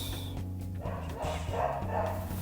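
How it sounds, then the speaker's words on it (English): A dog barks in the background, several muffled, mid-distance barks under steady game music, with no talking over them. "My dog is barking in the background"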